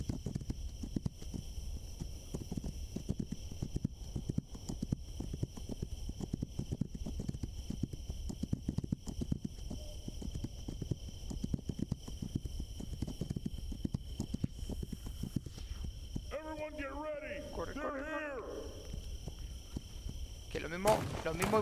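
A horse gallops in the video game This Land Is My Land, hooves drumming in a fast, steady rhythm throughout, with a few brief game sounds near the end.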